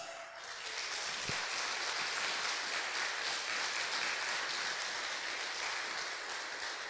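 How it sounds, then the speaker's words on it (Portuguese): A church congregation breaks into applause during a sermon, the clapping rising quickly and then holding as a fairly soft, even patter of many hands heard from a distance. "Aplauda ele bem forte."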